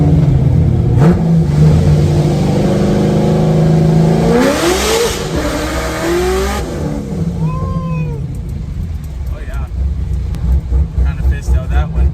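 A Procharged C6 Corvette Z06 accelerating on a street, its engine note climbing steadily in pitch through a loud, sustained pull before easing off into a lower drone.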